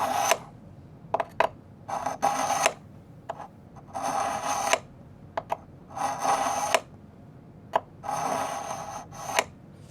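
A kitchen knife pulled repeatedly through a suction-cup knife sharpener, making about five separate gritty rasping strokes of a second or two each, close and fairly loud, with short scrapes and clicks in the pauses between them.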